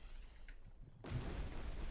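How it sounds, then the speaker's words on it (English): A big blast in the Arcane Odyssey video game bursts in at about the midpoint after quiet near-silence, then rumbles on as a loud, dense wash of noise to the end. "Big explosions."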